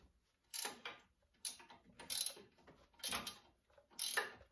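A wrench, likely a ratchet, loosening a ball joint on a 2004 GMC 2500HD truck; four close clicking bursts of ratcheting at a steady rhythm, separated by short quiet gaps.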